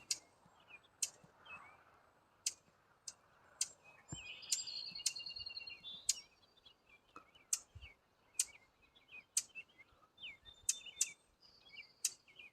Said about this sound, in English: I don't know what that bird is that's making that noise right now.